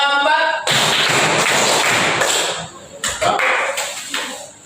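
Rhythmic group hand clapping in a classroom, a sustained loud burst of many hands that gives way to a few sharp, separated claps near the end.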